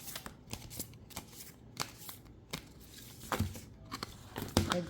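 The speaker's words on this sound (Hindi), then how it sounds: "You can fast forward this shuffling part" Tarot cards being shuffled by hand in a series of quick, crisp riffling bursts, close and fairly soft, with brief pauses between them.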